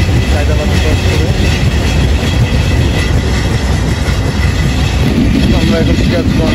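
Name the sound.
Dhumketu Express train running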